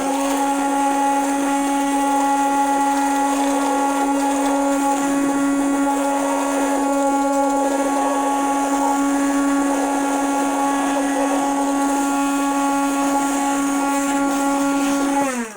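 A handheld mixer whirs steadily through body moisturizing lotion, a loud, even motor whine with a sustained tone that holds for the whole stretch before cutting off at the end.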